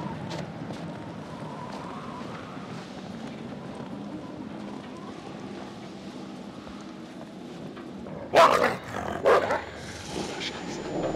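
Dog barking in the video game Until Dawn, a few short, loud barks late in the stretch over a dim, rumbling game ambience.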